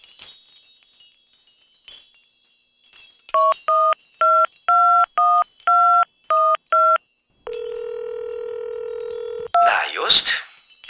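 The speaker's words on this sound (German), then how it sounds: "Ich muss unverzüglich Bob anrufen." In a Die drei ??? video game, a phone is dialed, with a run of distinct keypad tones followed by a long steady ringing tone. A voice breaks in near the end.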